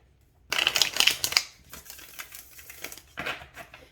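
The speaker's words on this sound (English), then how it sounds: "It shuffles so nice." A Tarot del Toro card deck is shuffled by hand in a crisp riffle burst, followed by softer flicks and a final snap of cards close by.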